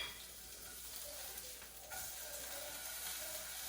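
A homemade Italian sausage patty fries in a pan with a steady, soft sizzle, a faint crackling hiss that runs on evenly throughout without talk.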